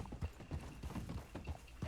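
Hoofbeats of a horse in a Red Dead Redemption 2-style western roleplay game, a quick steady clip-clop rhythm of several strikes, moderately close and alone.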